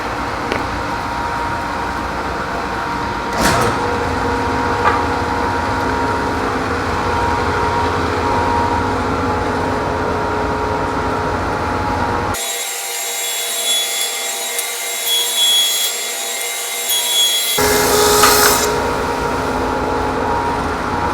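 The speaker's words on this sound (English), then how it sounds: "I'm going to go ahead and run it through the planer now" Thickness planer milling a wooden board in a workshop, a loud steady machine drone with a rougher cutting stretch partway through, close and continuous.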